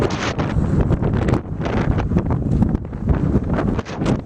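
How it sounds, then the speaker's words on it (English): Strong wind buffets the microphone at a desert camp spot in the Atacama, producing loud, gusty roaring rumbles that rise and fall continuously with no voices heard. "I'm going to turn the camera around so you can feel the wind"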